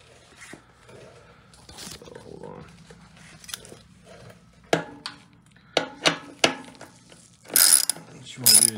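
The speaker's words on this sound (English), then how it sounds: "What you want to do is just go ahead and take these two bolts off." Ratchet with a 10 mm socket loosening bolts on a 2019 Royal Enfield Continental GT 650, heard as quiet clicking runs followed by several sharp, close-up ratchet bursts with short pauses between them.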